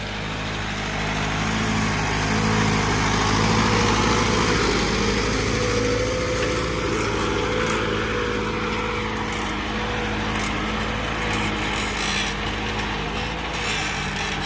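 A Kubota MU5502 tractor pulls a cultivator deep through ploughed farmland, its engine a steady, loud droning rumble with a rough grinding texture, holding constant load throughout with no voices.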